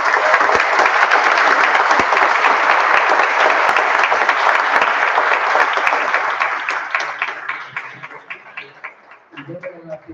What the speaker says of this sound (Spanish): tenemos que brindar un fuerte aplauso por esta presentación.